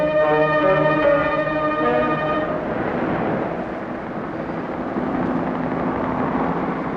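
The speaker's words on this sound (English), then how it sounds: "Whirling over the city, a police helicopter reports traffic movement to the operations center." A police helicopter circles over a city, its steady rotor whir and turbine drone filling the sound continuously, with a brief tonal hum fading out early on.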